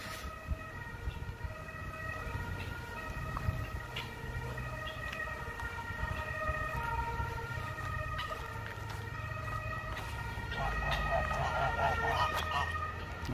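Chickens, ducks and geese at a German livestock farm cluck, quack and honk in a noisy flock, their calls overlapping near and far with a low background rumble.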